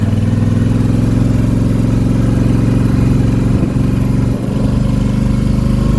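A 2020 Polaris Sportsman 850 Premium ATV engine running steadily on a test ride, a loud continuous low drone that holds nearly constant throughout, with no voices.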